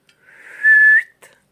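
A person whistles a rising then steady tone to imitate a zoom sound, loud and close, followed by a short breathy trailing note, with no talking.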